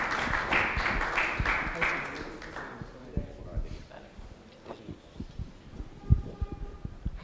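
A small church congregation applauds for a few seconds, the clapping fading out as people start talking and moving about.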